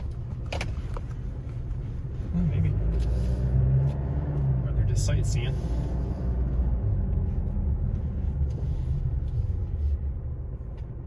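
A State of Hawaii truck drives past on a Big Island road, a steady low engine rumble swelling slightly as it goes by, heard from inside a car under ongoing conversation.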